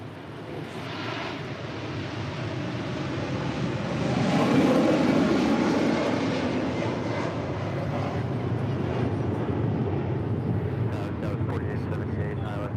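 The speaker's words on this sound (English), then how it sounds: "That is Korean Air Cargo 8208 departing to Seoul." A Korean Air Cargo plane departing LAX for Seoul roars steadily from a distance, its engine noise swelling midway and then holding, with people talking nearby.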